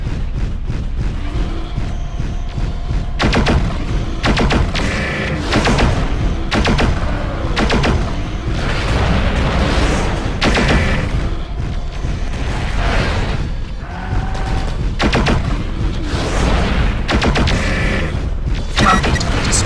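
Ammo-laden targets blow up in MechWarrior 4: Vengeance, a dense, continuous barrage of booming blasts and gunfire-like cracks, loud and close, with repeated heavy bursts and no speech.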